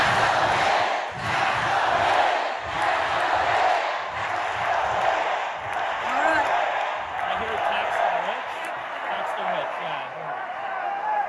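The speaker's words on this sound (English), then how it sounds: "This is the crowd chanting at Kathy Hochul to tax the rich" A protest crowd chants in unison aimed at Kathy Hochul, demanding that the rich be taxed, a dense wall of many voices with rhythmic shouted pulses throughout, loud and close, with individual voices rising above the mass.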